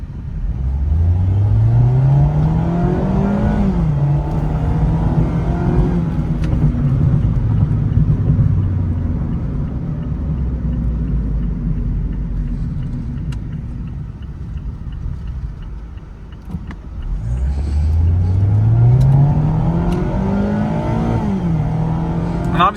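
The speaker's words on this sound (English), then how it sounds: "Engine noise is a little loud in here." Inside a 2023 Mazda MX-5 Miata Grand Touring on the move, the engine drones loudly and revs up through rising pitches, easing off between pulls and climbing again near the end, with no speech.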